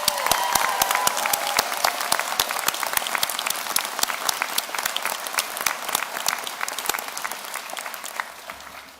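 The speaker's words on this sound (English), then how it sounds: "I'd just like to end before the formal closing with a round of applause for you in the auditorium tonight" Applause fills a university graduation auditorium, many distinct claps in a brisk, even patter that stays fairly strong before easing slightly at the end, with no voices over it.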